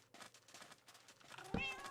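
Cats in the Minecraft video game let out a soft meow near the end, faint under ongoing game noise and a speaking voice.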